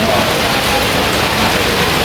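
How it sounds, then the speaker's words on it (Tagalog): Loud, dense heavy rain pouring steadily, a close broadband hiss with no pauses. "So na-stranded kami dahil ang lakas ng ulan."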